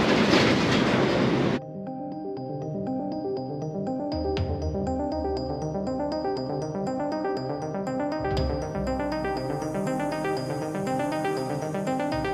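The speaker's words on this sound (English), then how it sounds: "A train coming through right now." A train passes on tracks near the historic Columbia River Highway, a loud, steady rumble with sustained tonal, horn-like drones and rhythmic wheel clatter lasting throughout, with no talking.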